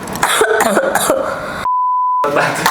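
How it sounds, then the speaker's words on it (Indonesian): A guest coughs and clears their throat close by in a few rough bursts under chatter, with a steady electronic beep tone cutting in briefly. "Tamu kita lagi batuk-batuk"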